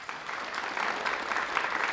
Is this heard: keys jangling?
no